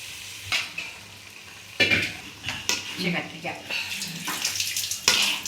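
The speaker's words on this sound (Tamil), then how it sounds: "மசாலா, அதை ஊற்ற போகிறோம்" Masala paste poured into an oily pan for brinjal kuzhambu, with clattering pan and utensil knocks, splashes and a soft sizzle, close and intermittent.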